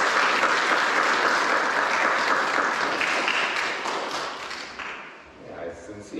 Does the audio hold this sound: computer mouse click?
no